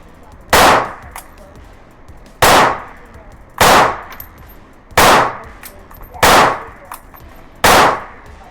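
A ported CZ P10c pistol fires six loud, sharp shots, each about a second apart, at close range with a short decay after each report.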